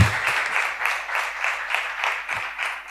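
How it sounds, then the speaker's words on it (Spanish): Audience applause closing out a panel session at a Ceuta event, dense and steady clapping from a crowd that carries on without break and sounds fairly close. "vamos a despedir esta mesa con un fuerte aplauso"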